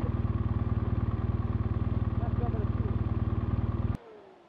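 A motorcycle engine idles loudly and close in the cold high mountains of a South American expedition, a rapid steady thumping pulse that cuts off abruptly when it is switched off near the end.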